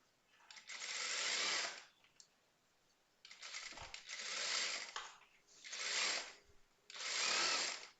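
Sewing machine stitching the side joint of a blouse, with four bursts of steady close whirring, each lasting about a second, separated by short quiet pauses.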